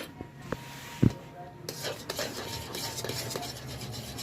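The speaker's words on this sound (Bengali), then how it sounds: "এইভাবে অল্প অল্প চালের গুঁড়া দেব আর অনবরত নেড়ে চেড়ে মিশিয়ে নেব" Rice flour is stirred a little at a time into milk in a pot for dudh puli pitha, a soft scraping and rubbing of a spoon against the pot with a few light knocks, quiet and close.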